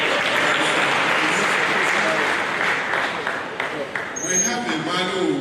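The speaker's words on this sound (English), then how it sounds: "let's give him a round of applause very much" Audience applauding steadily in a hall for a speaker at a talk, a dense continuous wash of clapping from many hands throughout, loud and close.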